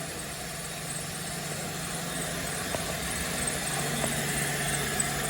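Holden Caprice V6 idling after a fuel pump and starter motor repair, a steady low hum that stays even and fairly quiet the whole time, with no voices over it.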